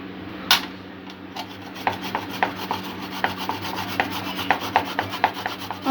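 Garlic scraped across a grater for a chicken curry, a rhythmic series of short rasping strokes, close and fairly quiet, with a faint steady hum underneath.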